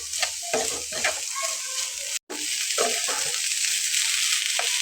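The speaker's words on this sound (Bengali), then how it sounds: "দিয়ে বেশ একটু নেড়ে চেড়ে নামিয়ে নেব।" Potatoes with salt and pepper frying in a pan, stirred steadily under a bright continuous sizzle with scraping strokes, close and fairly loud, broken by a brief dropout midway.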